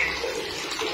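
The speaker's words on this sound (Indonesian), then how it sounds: "kita buka kran ya" Water gushing steadily from a tap feeding an old National water heater, a short burst of close splashing flow with no voices.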